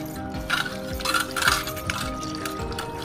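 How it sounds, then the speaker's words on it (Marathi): Prawns and halwa fish being rinsed by hand in a vessel of water, with repeated splashing, sloshing and light clinking against the container in an irregular rhythm, close and fairly steady, with no talking. "अशा प्रकारे पाण्याने धुवून घ्यायची"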